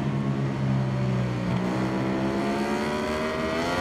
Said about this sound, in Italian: Senti il motore di Marini che è tornato sotto